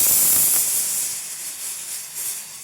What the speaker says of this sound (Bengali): দেখেছো সিটি পড়ছে, প্রেসারে ডাল বসিয়েছি।